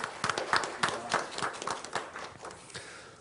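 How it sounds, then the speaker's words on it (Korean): A seminar audience at an education forum breaks into modest applause for a speaker, loose uneven clapping from a small crowd that thins out toward the end. "다시 한번 하태욱 교수님께 큰 박수를 부탁드리겠습니다."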